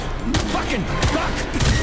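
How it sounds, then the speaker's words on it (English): Pistol shots in the video game Atomic Heart crack out as a few quick, sharp reports amid busy game sounds, close and moderately loud. "The pistol sounds underwhelming."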